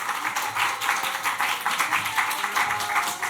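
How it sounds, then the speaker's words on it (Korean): A church congregation claps to welcome a missionary to the front, a dense, steady wave of many hands applauding together, fairly close and lively for several seconds. "우리 선교사님 나오실 때 큰 축복의 박수로 맞이하겠습니다"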